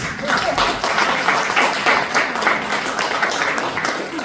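Audience applause at a political campaign kickoff event, including a toddler clapping, a dense steady patter of many hands with voices mixed in throughout.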